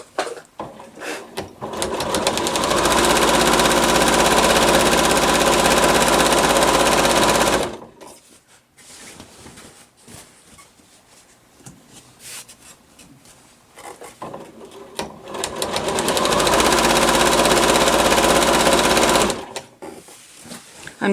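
A sewing machine stitches binding onto a heavy quilt in two long steady runs of dense whirring, separated by a quieter pause with faint handling rustles.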